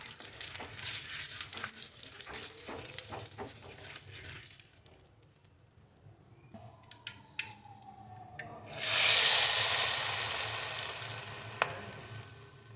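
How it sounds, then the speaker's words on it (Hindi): Spices frying in hot oil for a green bean and potato pickle-style curry: a soft sizzle with utensil clinks early on, then a sudden loud hissing burst that slowly fades as the frying settles. "और थोड़ी देर गर्म होने देंगे और साथ में ही मसाले डाल देंगे। एक आधा मिनट तक ही फ्राई करेंगे"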